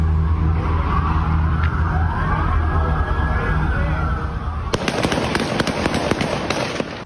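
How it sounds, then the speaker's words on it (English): Gunfire from a police shootout outside a store in Milwaukee, beginning with a rumbling, noisy stretch and then breaking into a rapid series of sharp, loud cracking shots with no talking. "Here's some video of that shootout"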